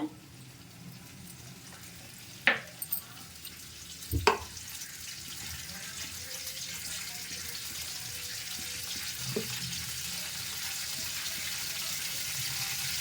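Cashews and raisins dropped into hot ghee: a few sharp clatters, then a steady, quiet sizzle that builds and holds to the end.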